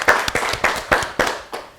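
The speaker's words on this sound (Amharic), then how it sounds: "ቢ አጨብጭቡለት፣ በደንብ አጨብጭቡለት" Several hands clap in a group of children at a televised quiz show, producing seven or eight fairly loud, rhythmic bursts that come at an even pace and end after about two seconds.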